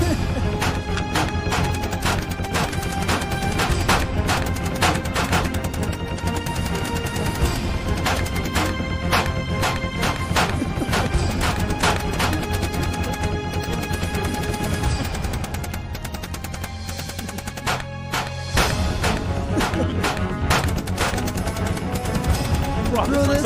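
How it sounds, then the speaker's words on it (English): Rapid gunfire and knife slashes from Resident Evil 5 gameplay form a dense, loud barrage of sharp hits and shots, layered over game music with a brief lull near the end. "you have to stop and stand still and exchange gunfire or knife slashes."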